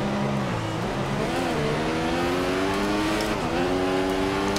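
Formula 1 race car driven in a PC racing game with a steering wheel, a loud continuous high-revving engine whose pitch climbs and drops through gear changes.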